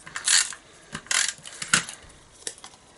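An adhesive tape runner clicks and crackles while sticking paper pieces for a Christmas table favour bag, a close, uneven run of small ratcheting clicks and taps.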